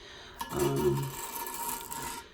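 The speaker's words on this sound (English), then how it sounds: "screwdriver just to peel that rest of that wax off" A big screwdriver scrapes leftover wax from underneath a toilet bowl, a rough rasping scrape building after a brief tap and continuing in uneven strokes at close range, with no speech.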